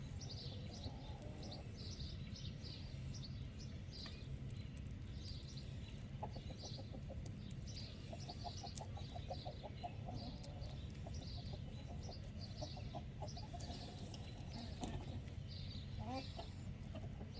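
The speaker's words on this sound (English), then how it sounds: "Neighbor's rooster's over here" A neighbor's rooster clucks and squabbles with another rooster in a yard, a series of short repeated calls over steady background noise.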